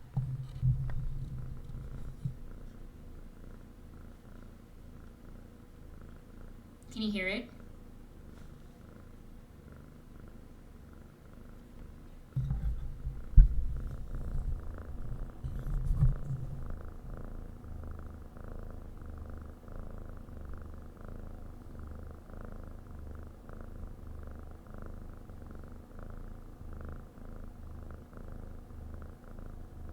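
A sleeping cat purrs close by, a low, soft, rhythmic rumble running steadily under a quiet room, with a brief spoken question and a few faint bumps and rustles.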